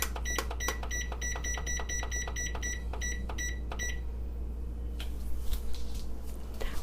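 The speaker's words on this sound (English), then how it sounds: "I'm going to set the timer for 15 minutes and then come back and check" An oven timer beeps repeatedly in a steady series of short electronic tones while the time is set, then falls quiet, leaving a low background hum and a few faint clicks.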